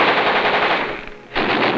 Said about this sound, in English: Check and test fire all weapons.